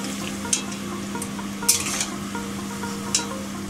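Fried paneer pieces being lifted out of hot oil, a low continuous sizzle under a few distinct clinks and scrapes of a utensil against the pan, close, no talking.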